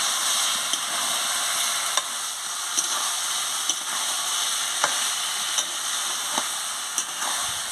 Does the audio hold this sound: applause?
no